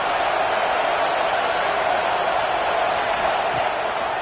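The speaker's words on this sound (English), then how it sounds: "This crowd bringing an ear-splitting welcome to their visitors." A packed stadium crowd in the College Football 26 video game roars in a steady, dense wash of cheering noise, loud and unbroken throughout with no distinct voices standing out.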